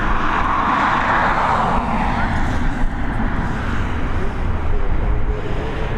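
Jet airliner arriving at Dublin Airport, heard from outside as a steady, loud broadband engine roar that holds for several seconds without a break.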